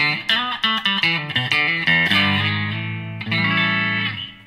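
Clean Stratocaster electric guitar on its rear pickup with no effects, playing a few quick picked notes and then letting sustained chords ring and decay, loud and up close with no talking.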